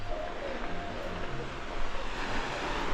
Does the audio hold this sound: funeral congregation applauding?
no